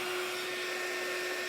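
A heat gun blows hot air over fresh black paint on a small Christmas tree made of wooden shims, giving a steady, loud, close whoosh with a constant motor whine and no voices.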